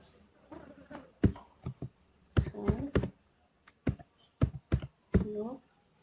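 Someone types a command on a computer keyboard: scattered keystrokes and firmer key thunks in irregular bursts, close and clear, with a voice speaking briefly between them.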